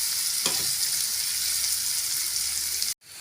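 Onions and crushed garlic fry in a pan for a Tamil drumstick kara kuzhambu, a loud, steady sizzle with a brief stir scrape near the start that cuts off abruptly just before the end.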